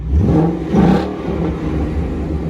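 A 2016 Ford Mustang GT revs loudly through a Roush aftermarket exhaust, a deep steady rumble swelling briefly then holding, close by.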